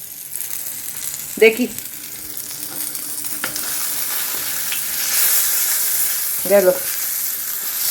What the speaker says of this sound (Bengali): আমার ওদিকে পটল বোধহয় সব পুড়ে গেল, কে জানে।